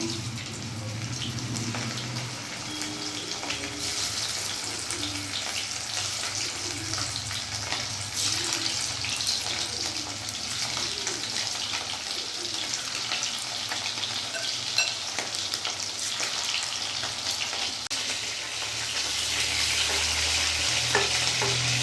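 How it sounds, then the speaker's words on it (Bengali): Chicken pieces shallow frying for butter garlic chicken, a steady broad sizzle of oil that runs throughout at close range, with occasional stirring and slight swells in intensity, no talking. "আমি কিন্তু ডিপ ফ্রাই করিনি, শ্যালো ফ্রাই করেছি হালকা"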